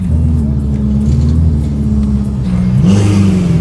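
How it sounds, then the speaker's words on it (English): A sports car engine rumbles steadily at low revs, then rises in a brief rev as it pulls into a parking spot at a car meetup, loud and close with no talk. "Here we have Bobby pulling into his parking spot right now"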